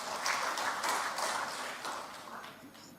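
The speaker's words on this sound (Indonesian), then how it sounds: "Kita berikan tepuk tangan yang meriah." Audience applause at a PDIP party event announcing regional head candidates, a diffuse wash of many hands clapping that stays fairly steady and slowly fades over a few seconds.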